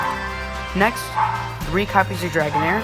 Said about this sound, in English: Sorry for my dog barking there.